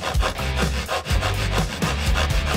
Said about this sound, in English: Sawing is hard work!